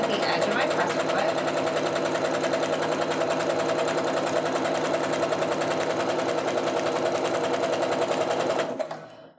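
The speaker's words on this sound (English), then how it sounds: "I'm just sewing down, making sure to keep this line nice and even with the edge of my presser foot" A sewing machine runs steadily, stitching quilt fabric pieces for a half-square-triangle quilt, a fast even mechanical whir close by that holds for about eight seconds and then stops abruptly.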